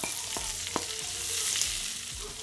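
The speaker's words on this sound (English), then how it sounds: "Now I'm gonna add my onions, my scallion, and my chili. Just add it all." Onions, scallion and chili hit a hot pan with a loud, continuous sizzle, a few light clicks of utensils sounding over the hiss and no voices.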